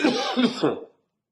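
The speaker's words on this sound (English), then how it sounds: "I coughed." A single throaty cough from one person, close and fairly loud, a rough rasping burst of about a second that stops abruptly into silence.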